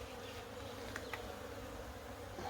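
Honey bees buzz steadily over an open brood frame crowded with nurse bees, a soft continuous drone with a couple of brief sharper wingbeat accents near the start, close and unbroken throughout.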